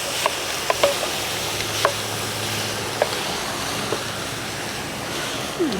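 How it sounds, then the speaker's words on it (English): Pureed peppers and onions browning in a pan for empanada filling, a steady soft sizzle with occasional light scraping taps of a utensil, close and continuous, with no talking. "So I'm just browning it, blending all these flavors together"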